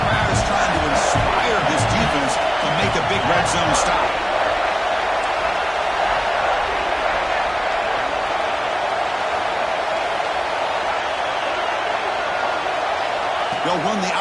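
A football stadium crowd roars steadily for the Penn State defense during a playoff red zone stand, a dense wall of sustained cheering and noise with a commentator talking over it.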